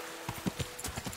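A horse's hooves clip-clop on the ground in the medieval video game Kingdom Come: Deliverance, several close, uneven hoof strikes in quick succession.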